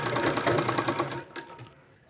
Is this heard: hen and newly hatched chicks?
no